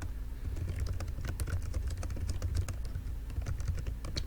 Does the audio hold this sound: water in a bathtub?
no